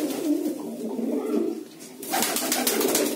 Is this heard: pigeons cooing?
yes